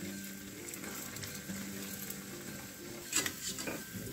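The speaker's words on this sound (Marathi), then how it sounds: "हा जो उलटा वडापाव आहे हा आपल्याला मीडियम फ्लेमवरच तळायचा आहे" Ulta vada pav frying in hot oil on a medium flame, a steady close sizzle with a brief clatter of a utensil or pan near the end.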